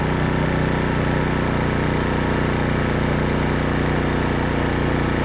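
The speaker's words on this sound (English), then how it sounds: "the RPMs are going to go up, and I want you to hear that" An inverter generator with an eco mode switch runs at a steady, close drone. Its engine holds a dense, constant hum as the RPM rises under an electrical load.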